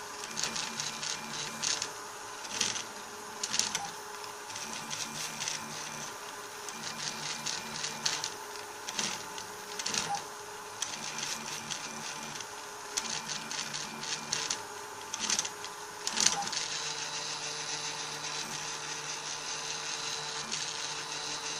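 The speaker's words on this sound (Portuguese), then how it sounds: "Agora ela está fazendo, imprimindo no ar o que vai ser a nossa ponte." A 3D printer prints a small bridge part, its stepper motors whirring in quick rhythmic tonal bursts with a steady fan hum underneath, close and unbroken, no voices.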